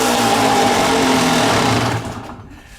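A Kawasaki dirt bike engine buzzes loudly and steadily at a fast, high-pitched idle close by, then drops off and fades near the end.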